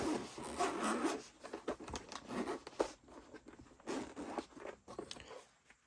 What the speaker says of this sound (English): Let's unzip it.